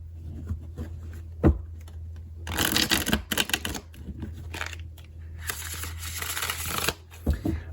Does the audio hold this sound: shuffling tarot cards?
yes